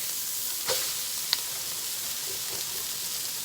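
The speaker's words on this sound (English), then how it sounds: "Now we're going to come in with the cabbage." Cabbage goes into a hot pan over medium heat and sizzles with a soft, steady hiss, broken by a couple of brief clicks and stirring noises, with no talk.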